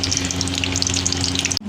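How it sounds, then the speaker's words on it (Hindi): Koftas lightly frying in leftover oil from frying onions, a dense continuous sizzle with crackling pops held at steady loudness close up, cutting off abruptly near the end. "इनको थोड़ा सा हल्का सा फ्राई कर लूँगी"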